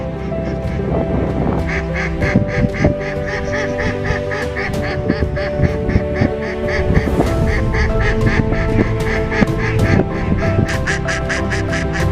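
A large flock of ducks quacking loudly and continuously, rapid overlapping calls close by with honking mixed in, at a waterfowl hunting blind at night.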